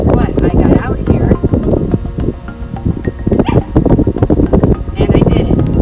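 A dog barks and yips outdoors beside a sidewalk, its repeated calls mixed with wind noise and a voice that runs through most of the stretch.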